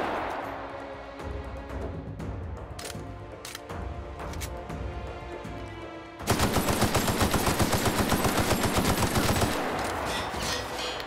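Full-auto gunfire in The Outer Worlds video game: scattered shots give way to a sustained, rapid rattling burst that runs loud and continuous through the second half.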